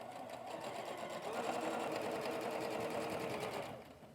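A sewing machine stitches quilt seams for a paper doll quilt project, a steady rapid whirring run of about three and a half seconds that then stops, close and alone with no talk.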